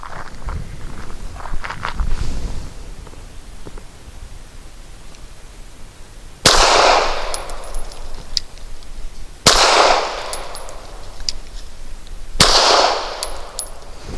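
Taurus G3 pistol firing PPU 158 grain full metal jacket rounds outdoors, three loud, sharp shots spaced about three seconds apart, each with a ringing decay, after quieter handling sounds.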